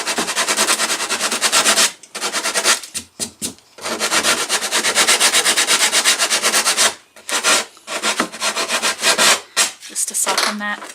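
Coarse 60-grit sandpaper rubs back and forth over the rough edges of a wooden lap desk in quick, scratchy strokes, close and loud, with a few brief pauses between passes.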